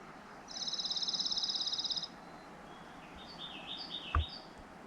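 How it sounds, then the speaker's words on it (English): Birds call outdoors at morning by a lake near a remote cabin, with a steady pulsing trill for a couple of seconds followed by scattered higher chirps and a brief thump, heard moderately near over quiet ambience. "The birds are up."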